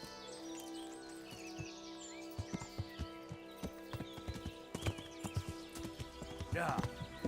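In the video game Kingdom Come: Deliverance, a horse's hooves clip-clop in a steady rhythmic walk, growing slightly louder toward the end, over soft outdoor ambience with birdsong and a brief whinny-like sound.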